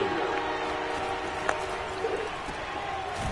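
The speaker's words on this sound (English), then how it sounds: "Crowd getting in it a bit already." A stadium crowd murmurs and roars in a PS5 American football video game, a steady, wide wash of noise that holds evenly without sharp peaks.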